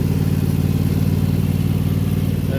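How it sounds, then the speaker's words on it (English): A tractor drives along a beaten-down trail on a rural property, its engine running loud and close with a steady low rumble and rattling clatter throughout. "I am on the tractor, so it's gonna be loud here for just a second."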